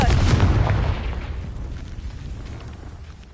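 In Hogwarts Legacy, a Confringo fire spell blast bursts loud at the start, then fades into a crackling, rumbling tail over a few seconds.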